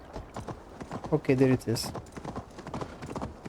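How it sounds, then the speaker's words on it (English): A horse gallops in the Assassin's Creed Valhalla video game, with a steady, rapid clip-clop of hooves running throughout while a person talks over it. "The horse will start running like right now."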